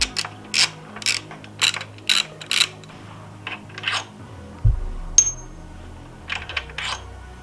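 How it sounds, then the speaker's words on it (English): A socket ratchet clicks in quick bursts while the front brake caliper bolts come off a Yamaha XSR900 motorcycle, with sharp metallic taps and a low clunk partway through. "Go ahead, remove the front caliper bolts."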